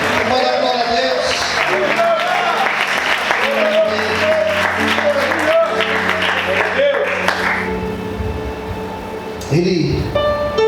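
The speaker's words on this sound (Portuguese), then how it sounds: "Você pode aplaudir e exaltar a Deus por isso." A church congregation applauds together during a sermon, sustained clapping and crowd noise filling the room with music or voices underneath, fading slightly near the end.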